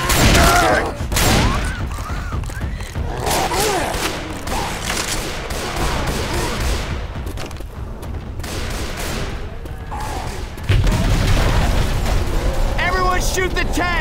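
Sustained gunfire from Left 4 Dead's Parish campaign on Expert, dense bursts running throughout amid heavy game noise, with players shouting over the shooting.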